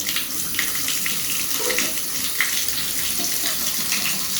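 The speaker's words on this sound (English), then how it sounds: "We'll test the spout out here." Water runs steadily from a newly replaced bathtub spout, a continuous close splashing rush with no talk over it.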